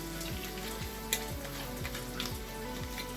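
Butter melting and sizzling in a hot pan, a faint, even crackle running throughout under a low steady hum, with one small clink partway through and no talk.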